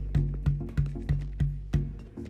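A DW maple X drum shell is struck six times at a steady pace, each close, sharp attack followed by a deep, ringing pitched tone that decays before the next hit, heard alone.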